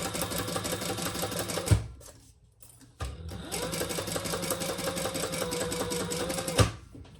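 A sewing machine runs a basting stitch to hold a zipper closed on a sling bag. There is a rapid, even stitching whir, a short pause, then a second longer run, each ended by a sharp clunk.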